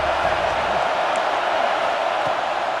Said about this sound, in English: Man, this crowd really affecting the football now.